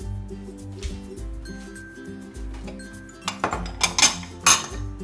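Chickpeas are washed in a metal pot, with clinks and knocks of dishes that build into a cluster of sharper clatters toward the end, over background music and without any speech.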